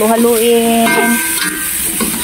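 Bitter gourd being stirred as it fries in a pan, loud close sizzling and hissing with some tonal clatter throughout.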